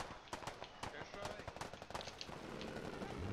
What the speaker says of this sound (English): Oh, it's an airstrike on the enemy vehicle.